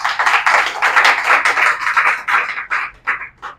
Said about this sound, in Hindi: जोरदार ताली हो जाए जो है।